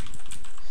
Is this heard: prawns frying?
no